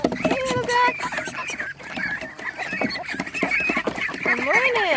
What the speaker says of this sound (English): Hey, little ducks.